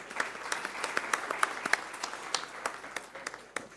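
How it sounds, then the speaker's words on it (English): Audience applause sends off a departing minister at a live conference session, a steady patter of many hands clapping at moderate volume with no voices over it. "big round of applause, please"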